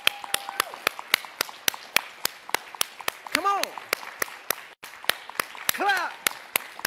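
Audience clapping together in a steady, evenly spaced unison beat, each clap sharp and loud, while a speaker talks over it and calls out encouragement between claps.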